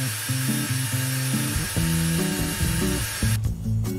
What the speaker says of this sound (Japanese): 電動ドリルを使って直径 6mm の穴を開けます。